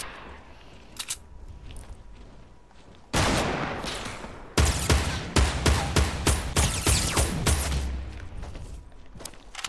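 Gunfire in the video game Fortnite during a sniper shootout: a loud burst of rapid, evenly spaced shots cracks out close by after a quieter stretch, with a few faint isolated shots earlier.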